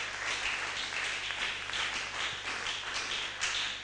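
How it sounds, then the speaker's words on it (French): A church congregation clapping hands together during worship, sustained many-handed clapping with a loose rhythmic pulse, moderately loud and continuous. "tobete likolo maboko"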